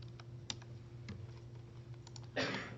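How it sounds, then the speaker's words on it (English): Keys on a computer keyboard are tapped quietly in a sparse run of clicks over a low steady hum, ending in a short burst of quicker keystrokes. "or you can also just type C:/program data"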